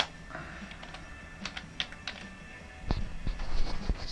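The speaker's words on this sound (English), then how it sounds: "let me type in my social security number here" Someone types on a computer keyboard, tapping out a short run of keystrokes at close range that grows busier toward the end, with no talking.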